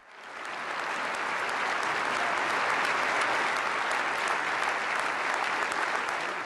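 Loud, sustained applause from a large audience of politicians, swelling quickly and holding steady throughout without a break.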